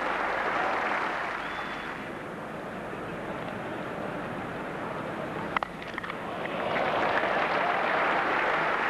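A cricket crowd at a match applauds a shot, sustained distant clapping and crowd noise that dips in the middle, then swells again with a broad roar toward the end.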